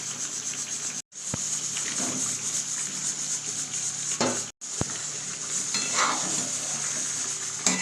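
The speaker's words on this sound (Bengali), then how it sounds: "আলুটাকে এই মাংসটার সাথে ভালো করে নাড়াচাড়া করব" Potatoes are stirred into mutton curry in a wok, giving a continuous sizzling hiss with scraping spoon strokes and two brief sharp breaks, close and fairly loud.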